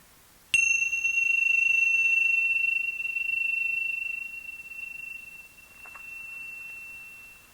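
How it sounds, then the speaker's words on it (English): A single meditation bell is struck once and rings out with a clear, pure tone that decays slowly over several seconds in a quiet room. "Or of the sound of these bells."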